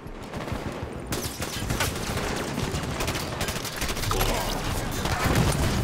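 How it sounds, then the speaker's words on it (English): Enemy gunfire in the video game Halo 5 Warzone, heard as sustained rapid automatic bursts and rattling shots layered over a busy battle, steady and fairly close throughout. "Watch the enemy fire!"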